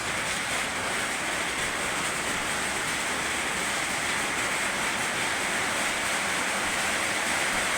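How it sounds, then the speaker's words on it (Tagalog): Heavy rain pours steadily in Dasmariñas, Cavite, a dense continuous hiss filling the space without pause, close and enveloping, with no voices heard. "Ayan na, lumakas na ang ulan."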